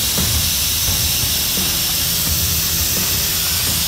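A spray gun sprays toner onto a sanded car taillight, a steady close hiss running unbroken throughout with faint low background knocks.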